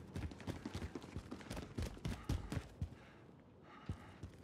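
Loud, rapid player footsteps in Call of Duty (Modern Warfare or Black Ops 2), a dense run of thudding steps with scattered gunfire-like bursts, thinning out near the end.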